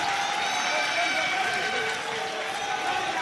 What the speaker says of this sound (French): on entend le public applaudir